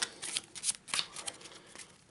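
Cards from the Eldritch Horror Other World encounter deck riffled in a quick tabletop shuffle, a close, brisk flurry of papery flicks and slaps with no talking.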